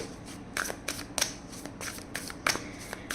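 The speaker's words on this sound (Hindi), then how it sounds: "सो कार्ड्स शफल कर लेती हूँ।" Tarot cards being shuffled by hand, a close run of soft riffling swishes and crisp flicks arriving in uneven bursts, with no voice over them.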